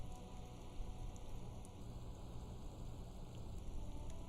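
Soft, steady rainfall in Disco Elysium, a faint continuous patter on surfaces that stays quiet and even throughout with no voices.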